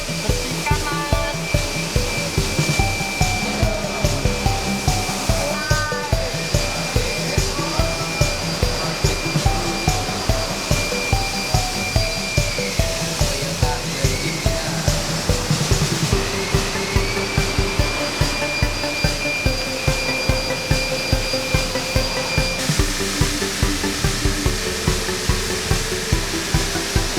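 An air blower dries the body of a Nissan Grand Livina during full detailing, a loud continuous whooshing roar with a steady rhythmic ticking beneath it throughout.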